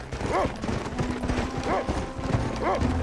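Horse hooves clip-clopping in the Red Dead Redemption video game, a steady close trotting beat with a few whinnying calls mixed in.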